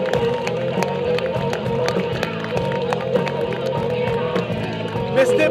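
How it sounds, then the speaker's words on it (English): Crowd at an outdoor DockDogs extreme vertical dog jumping event clapping and cheering for a dog and handler, a dense sustained wash of applause and voices with sharp claps poking through. "Big round of applause, ladies and gentlemen, for John and Storm."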